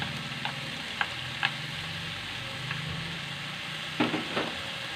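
Lotus stems stir-fry in a hot pan with a steady close sizzle, broken by a few light scraping stirs and a couple of louder clinks near the end.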